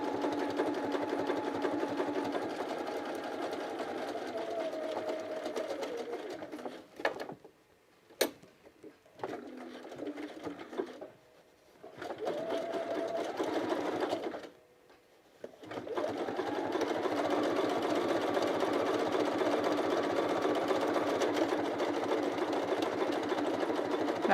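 Steady mechanical whirring of a sewing machine stitching a thick seam on pants, running continuously with a few brief pauses and clicks midway before resuming.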